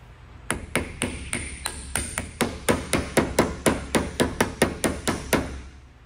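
A steel hammer drives a cap onto a Land Rover Series III axle in a fast, even run of about twenty ringing metallic strikes. The blows are close and loud with a bright ping on each hit, and no voices are heard.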